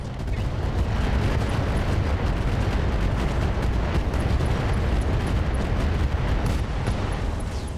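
In the mech combat game RogueTech, mech weapons fire on a Shadowhawk. A dense, loud, continuous barrage of booming shots and explosions rumbles without letup.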